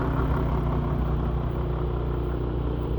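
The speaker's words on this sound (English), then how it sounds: "The engine running." A 2012 Forest River Solera 24S B+ motorhome engine runs at a steady idle, a continuous low rumble that stays constant and fairly close with no voices over it.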